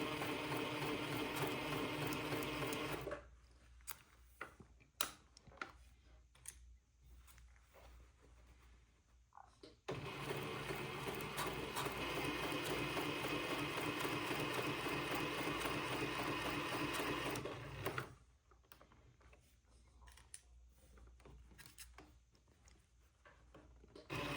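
A sewing machine stitches fabric in two long continuous runs of close, steady whirring, separated by quieter pauses filled with small clicks and handling noises as pins are pulled out; no one talks.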